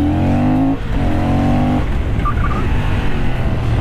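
A Honda CB750 Hornet motorcycle engine on a test ride at a track, its loud steady tone rising, dropping briefly, then giving way to rushing road and wind noise.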